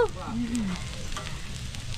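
Fish frying in a pan with steady, close sizzling throughout, a brief tonal squeak at the start and no speech over it.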